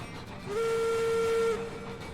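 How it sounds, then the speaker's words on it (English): A big train in Railroads Online sounds a steady steam whistle for about a second, clear and moderately loud over a low rolling rumble. "Yeah, look at that train. That's a biggin."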